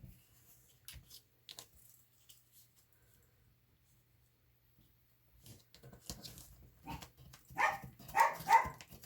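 A dog barks several times in quick succession near the end, fairly close, after a mostly quiet stretch with faint movement noises.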